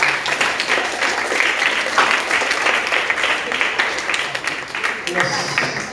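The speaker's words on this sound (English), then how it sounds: "Let us clap on ourselves again, please." A crowd of high school students in Ibadan, Oyo State applauds steadily for the full stretch, dense and loud clapping with no break, filling the room.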